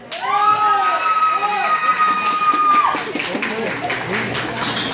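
A nightclub audience at a Halloween party cheers with overlapping shouts and yells, alongside some clapping, in a lively burst that carries on for several seconds.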